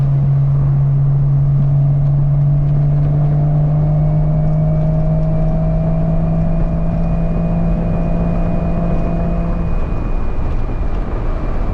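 A Porsche 986 Boxster with a cheap aftermarket cat-back exhaust cruises on a Tennessee road, a steady low engine drone that slowly rises in pitch, then eases off near the end.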